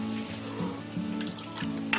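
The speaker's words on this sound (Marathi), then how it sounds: "आता मी ते ढवळते बघ." Masoor dal with ground lentil paste simmers in a pot while being stirred, giving a quiet continuous bubbling sizzle with soft rhythmic scraping strokes and a small clink near the end.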